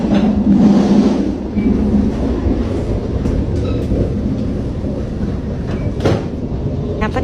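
Interior of a moving passenger train with seat-numbered carriages, a steady loud rumble and rattle of the carriage running on the rails, with brief clicks and knocks throughout.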